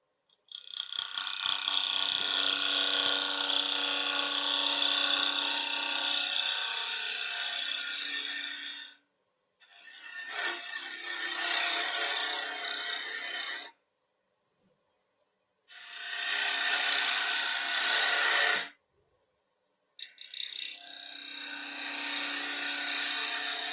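Gouge cutting on a wood lathe while turning a three-corner bowl, producing a loud, harsh, hissing rasp in long sustained passes broken by brief silent gaps, close by.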